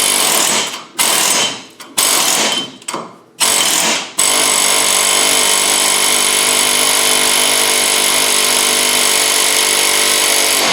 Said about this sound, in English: What we're going to do is going to beat the end of the flats just like you would with a hammer